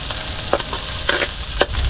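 Garlic and onion fry in oil over lowered heat, giving a loud, steady sizzle broken by a few stirring scrapes and clicks, with no one speaking.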